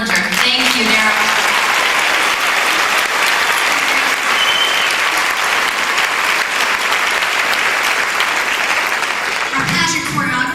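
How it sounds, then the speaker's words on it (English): A large pageant audience applauds steadily for the production staff, a dense, loud wash of clapping that holds for about ten seconds before tapering into a brief voice at the end. "please give a huge round of applause to, first of all, our producer extraordinaire and set designer, Daryl Drillinger"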